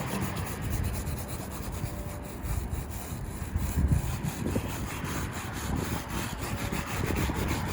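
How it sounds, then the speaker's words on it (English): A wire brush roughens a smooth patched wall on a house damaged by a car crash. It makes a close, continuous gritty scraping with uneven strokes. "I'm going to take a wire brush and take some of that smooth"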